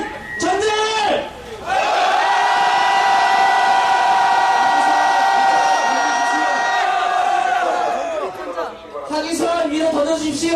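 Protest crowd at a rally by subcontracted broadband workers outside a corporate building, roaring and shouting together in one long sustained cheer, with a voice over a loudspeaker before and after.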